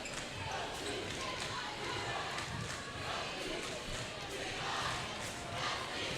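Crowd noise in a school gym during a girls varsity basketball doubleheader, Michigan City versus LaPorte, a dense, continuous roar of voices with ball bounces and sneaker movement mixed in, with announcer talk over it.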